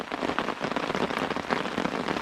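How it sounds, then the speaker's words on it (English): Hard rain falls outdoors by the South Branch of the Harris River, a dense, steady patter of drops drumming on surfaces without pause. "It was raining pretty hard for a few minutes"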